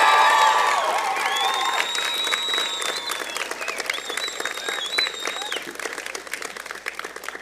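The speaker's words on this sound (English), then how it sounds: "Could we please have a louder round of applause for your support network?" Loud round of applause from a large audience at a university convocation ceremony, dense clapping mixed with cheers and whoops, gradually thinning toward the end.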